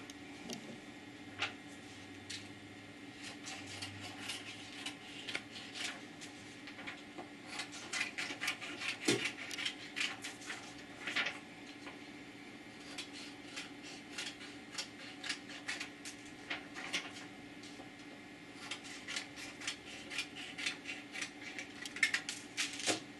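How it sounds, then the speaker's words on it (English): Scissors trim around the edges of printed transfer paper for T-shirt heat transfers, giving a steady series of close, crisp snips and rustles at a low level with no talking. "we're going to trim around the edges, because sometimes you get a little bit of a white border to it"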